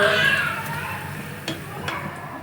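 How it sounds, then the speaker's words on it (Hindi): Food frying in a home kitchen during iftar preparations, a steady close sizzle that fades slightly, with a couple of faint clinks of a utensil partway through. "अब्बू कर रहे हैं आज फ्राई"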